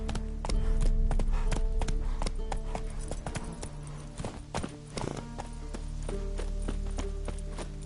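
A horse's hooves clip-clop steadily and close by in a brisk, even rhythm as it is urged forward, with a faint low rumble beneath and no speech over it.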